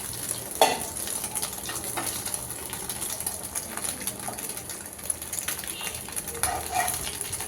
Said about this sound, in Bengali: আর এখন ডিম ভেজে নিচ্ছি।